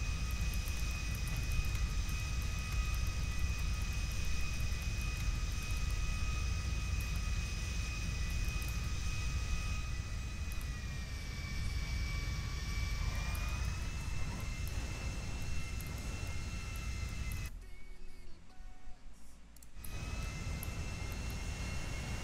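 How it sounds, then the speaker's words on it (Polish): A steady airplane engine drone in a GTA video game, loud and continuous with a slowly shifting whine and a brief drop-out near the end, no speech. "Zaraz będzie ten samolot."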